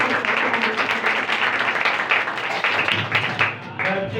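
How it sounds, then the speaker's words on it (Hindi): Loud applause from a church congregation at a Sunday morning meeting in Pakistan, a dense steady patter of many hands that keeps going throughout, with voices mixed in. "आपकी जोरदार तालियों को"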